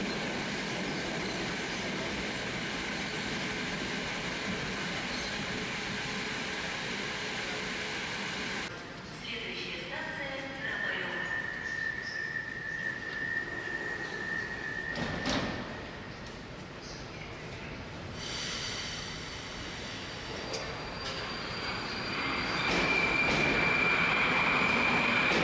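A Moscow Metro train in a station, a sustained rumble of rolling wheels and rail noise with squeals and tonal whines as the train moves through, with voices faintly in the background.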